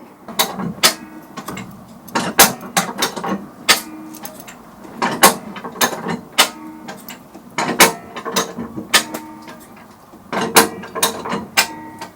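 A spring compressor ratchets down on a Land Rover Defender front coil spring: sharp, close metallic clicks in repeated short bursts, with creaks and quiet gaps between each round of tightening.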